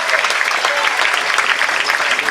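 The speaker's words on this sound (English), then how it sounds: "keep clapping for Jeff the Fun Dude" A comedy show audience claps for a comedian, loud, dense applause that holds steady through the whole short stretch with no pause.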